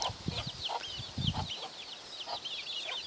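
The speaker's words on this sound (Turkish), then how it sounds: "Civcivlerim vardı. Onları göstermek istiyorum." Chickens and chicks cluck and peep softly on a farm, short scattered calls and chirps popping up faintly over a quiet background.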